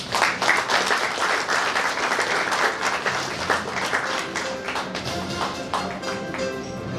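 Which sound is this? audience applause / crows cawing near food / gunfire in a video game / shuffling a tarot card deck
audience applause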